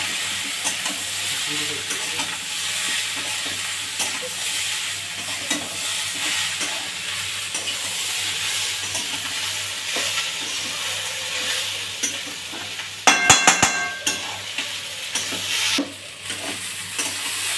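Potato and kakrol (teasel gourd) fry being stirred in a pan with turmeric, producing a continuous close sizzle with steady scraping strokes and a brief burst of metallic clatter near the end.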